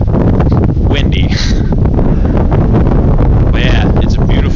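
Strong wind on a mountain summit as a storm rolls in, loud, continuous gusts buffeting the microphone with roaring, rustling bursts throughout.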